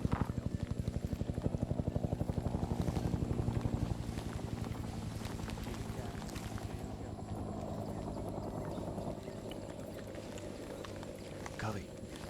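A Huey gunship helicopter flies in the SOG Across the Fence game, its rotor a steady low, thumping drone that stays loud throughout, with voices talking over it.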